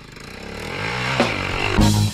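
A motorcycle engine running close by after a fall, a loud rough droning that climbs in pitch, with a clattering scrape partway through and a surge near the end.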